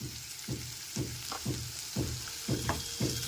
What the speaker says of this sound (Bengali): আদা রসুন বাটার সাথে খুব ভালো মতো টমেটোটা কষিয়ে নিতে হবে